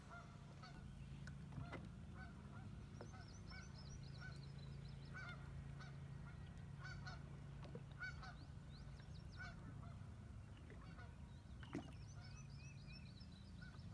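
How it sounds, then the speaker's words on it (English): Geese honk repeatedly in the distance, faint nasal calls scattered across a steady low background hum, with no one speaking. "Yeah, that sounds like geese."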